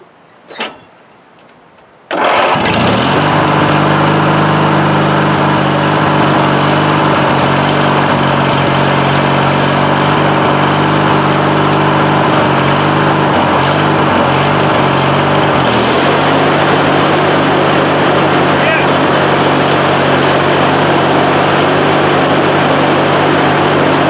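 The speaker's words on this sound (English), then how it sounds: "Now let's try the mower deck." A rebuilt Craftsman 19.5 HP riding lawnmower starts after a brief quiet moment, then runs with its mower deck engaged in a loud, steady, close engine drone that wavers slightly in pitch partway through.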